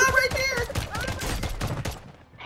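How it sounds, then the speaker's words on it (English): Rapid bursts of sniper rifle fire in an online shooter game, several sharp cracks packed closely together over a couple of seconds, loud and near, with a voice talking underneath. "Oh, he hit me with a sniper rifle."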